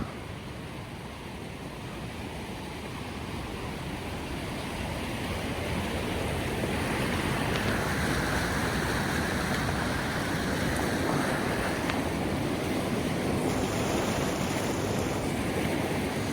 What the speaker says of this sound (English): the GoPro basically sits right at water level and it dunks in and out and in and out